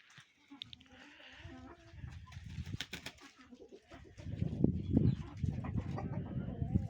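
Young roosters cluck and murmur softly nearby in the sun after rain, building into a busier, louder chorus of clucks and low calls toward the end.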